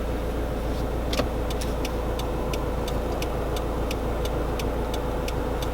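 Subaru Crosstrek with an AVO TD05 18G turbo, internal wastegate and 3-inch catted turbo-back exhaust, a steady low drone with a faint regular ticking above it, heard alone.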